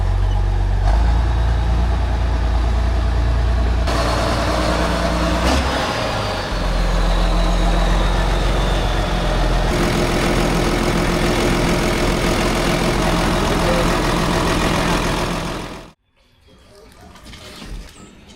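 Farm tractor engine running steadily and loud at close range, shifting to a slightly different idle tone partway through before cutting off abruptly near the end.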